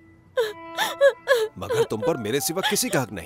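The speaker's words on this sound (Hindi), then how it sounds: "ये लड़की की रोने की आवाज" A girl wails and whimpers in drawn-out moaning sobs, close and loud, before someone speaks over the rest of the sound in a tense dramatic scene.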